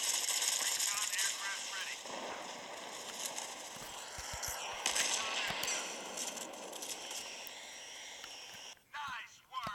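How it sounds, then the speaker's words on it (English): Automated D.R.A.F.T. drone gunfire against enemies in the shooter Modern Combat 5, steady rattling bursts mixed into busy battle noise and engine hum, with a person talking over it. "you can see how the draft was shooting at the enemies"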